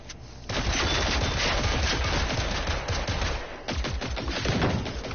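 Rapid automatic gunfire from a video game, dense sustained bursts with a short pause near the middle, loud and close with no talking.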